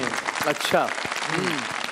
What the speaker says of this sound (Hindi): देखें यार इस बात पे तालियां होनी चाहिए मेरे लिए यार